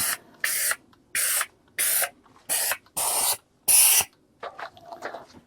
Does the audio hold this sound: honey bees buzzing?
no